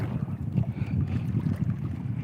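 Strong wind buffets the microphone over a kayak on Lake of the Woods on a big-wave day, a steady low roar with churning water beneath, continuous and close throughout.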